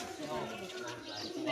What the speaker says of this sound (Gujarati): ઘણા બધા કબૂતર છે આની અંદર